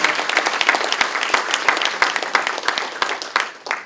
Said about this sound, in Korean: 큰 박수 다시 한번 보내주십시오.